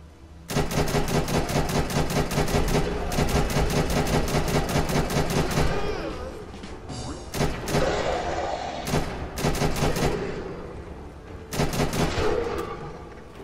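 Rapid automatic gunfire from a weapon in Fallout 4, loud dense bursts of shots in long runs with brief pauses between volleys, close and dominant.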